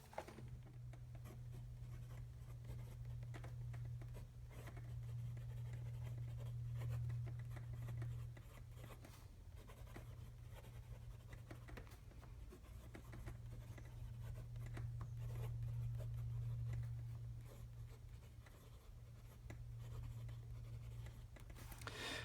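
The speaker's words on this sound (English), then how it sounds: "this pen is quite smooth, and you can hear just that slight little bit of tooth" Medium-nib TWSBI Diamond 580 fountain pen inked with Robert Oster Green Lime, writing on Greenwood Classic A5 grid notebook paper: a quiet, steady scratchy rustle of nib strokes with slight tooth, continuous and close, over a low steady hum.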